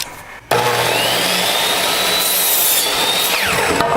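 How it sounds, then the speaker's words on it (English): A jigsaw cuts through wood for a TARDIS sign box, a loud, steady buzzing rasp starting abruptly after a brief quieter moment and running continuously close up, with no talking. "We are cutting the sign box out with a jigsaw"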